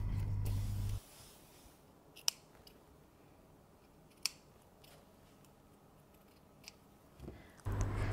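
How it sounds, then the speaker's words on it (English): Scissors snip away extra fabric pieces at the seams of a handmade cashmere jacket, giving a few sharp, isolated close clicks spaced apart in a quiet room, framed by louder handling noise at the start and end. "Do not forget to cut all the extra pieces."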